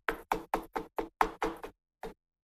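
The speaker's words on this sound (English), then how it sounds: "And then we just get some card and knock off the excess." A piece of card tapped repeatedly against a surface to knock off excess craft powder: eight sharp, close knocks in a quick uneven rhythm, then a pause and one last tap, with no talk.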